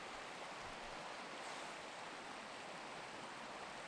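Creek water on a forest backpacking trail rushes in a steady, even hiss, faint but constant with no other sounds.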